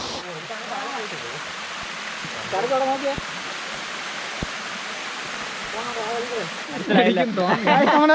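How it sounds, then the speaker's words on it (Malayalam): A stream of water runs and spills down over rocks from a height at a hidden spot in Trivandrum district, a steady close rushing roar throughout while people talk over it. "സൂപ്പർ വെള്ളം ഇങ്ങനെ ഒലിച്ചിങ്ങനെ പൊയ്ക്കൊണ്ടിരിക്കുകയാണ്"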